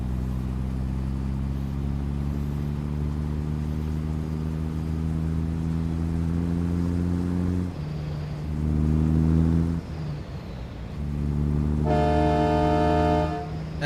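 A train horn sounds inside American Truck Simulator, long sustained harmonic blasts repeated several times, with a brief break around eight seconds and a brighter, sharper final toot near the end, loud and close.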